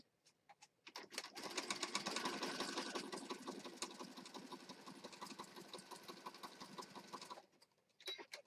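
A sewing machine stitches junk journal pages in one long, steady burst of rapid needle chatter, close and fairly quiet, framed by a few short starts and stops at either end.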